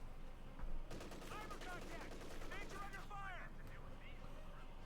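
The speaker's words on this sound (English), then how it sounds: "Engaging the troops with machine guns." Machine gun bursts crackle on a Company of Heroes 2 battlefield, rapid fire repeating in short volleys over a steady din of combat, with a caster talking throughout.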